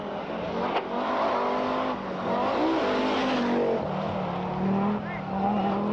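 Stig Blomqvist's Audi Quattro rally car at the 1982 Rally of the 1000 Lakes in Finland: a steady, loud engine roar with shifting pitch as the car drives past, under a commentator's voice.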